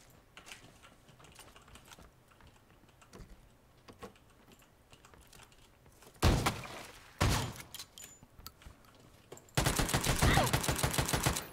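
Uzi gunfire in the shooter game PUBG, with a few loud rapid-fire bursts, the last one sustained, following quieter stretches of keyboard tapping and light clicking.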